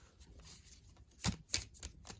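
A deck of cards shuffled by hand at close range, quiet riffling with a few sharp brisk snaps and flutters in quick succession, faint and alone.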